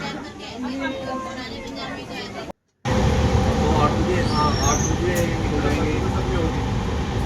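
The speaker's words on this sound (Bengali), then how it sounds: "ট্রেন ছেড়ে দিচ্ছে, চললাম" The Shan-e-Punjab train departs, heard from inside as a steady rumbling hum with nearby chatter, briefly cut off and then continuing.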